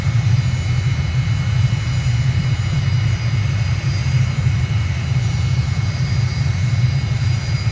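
A jet airliner landing at Mexico City in a flight simulator game, with a steady low engine rumble and hum that holds at an even level throughout.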